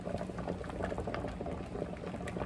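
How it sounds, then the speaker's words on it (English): Water boils steadily in a double boiler used to melt wax, a dense, close bubbling and popping that runs continuously without a break. "The water's boiling."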